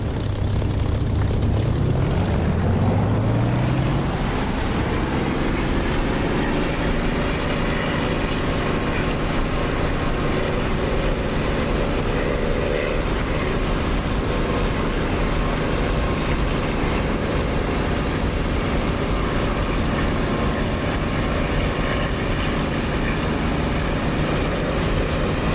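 Propeller aircraft engine spooling up for takeoff in the DCS flight simulator, its pitch climbing over the first few seconds and then settling into a loud, steady, continuous drone.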